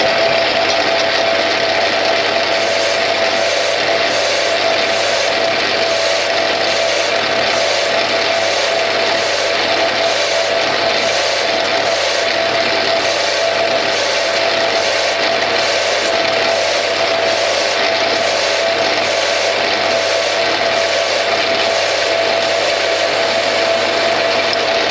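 A Bernardo P 600 G lathe turns a grade-2 titanium ring, a loud steady mechanical drone with a constant hum and regular rhythmic pulsing of the cut, close and continuous with no talk.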